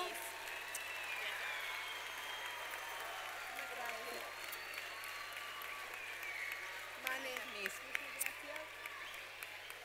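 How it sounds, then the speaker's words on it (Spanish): At a school musical, an audience applauds the team in a soft, distant, continuous patter with voices mixed in and a few sharper claps near the end. "Así que un aplauso grande para el equipo."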